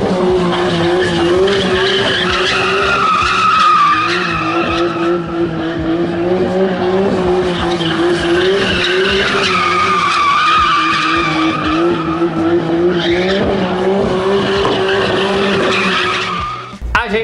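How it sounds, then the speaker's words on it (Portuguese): A van fitted with a big engine drifts, its tires squealing and skidding continuously over a loud engine roar, the pitch rising and falling as the van slides, close and sustained for around seventeen seconds. "é muito interessante uma van com um motor desse fazendo drift."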